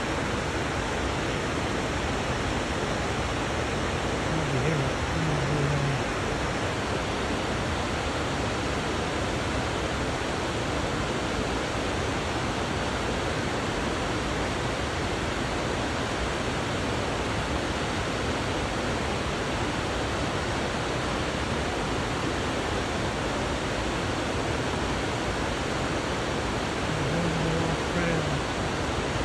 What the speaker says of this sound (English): There's a good sized waterfall.